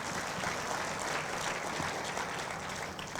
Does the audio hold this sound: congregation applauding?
yes